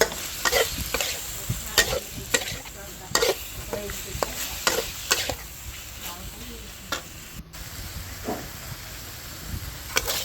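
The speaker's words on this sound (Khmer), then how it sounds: "ត្រីដែលយើងអាប់ទុកហ្នឹងឆាវាទៅ" Fish stir-fried with fingerroot in a hot pan sizzles steadily as a utensil scrapes and taps the pan in quick irregular strokes, close and clear.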